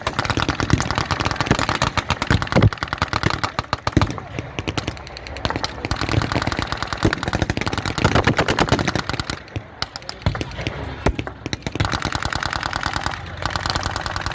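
Rapid bursts of machine-gun and rifle fire crackle almost continuously across an open field at a World War II battle re-enactment, loud and close, with an engine rumbling beneath the shooting.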